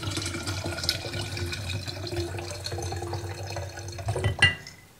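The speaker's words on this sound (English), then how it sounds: "I'm going to pour out all the water from these pea seeds." Water poured out of a container of soaked pea seeds outdoors in a garden, a running, splashing stream that grows louder and gushes near the end before trailing off.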